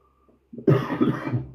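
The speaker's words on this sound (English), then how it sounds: "Sorry about the coughing, people." A single harsh cough bursts out close by after a brief quiet moment, ending in a rough, throaty rasp.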